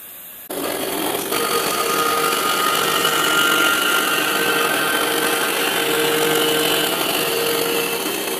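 Machine facing off a wooden workpiece for a woodworking centre-finding gauge, a steady continuous whirring cut that starts abruptly and runs loud and unbroken with no talk.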